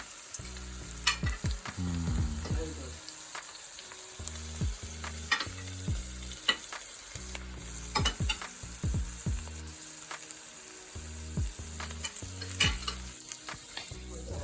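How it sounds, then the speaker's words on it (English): Food sizzles steadily in a frying pan while a utensil stirs it, with repeated scraping knocks and clinks against the pan over a constant hiss, close up and without talk. "Stir a little bit."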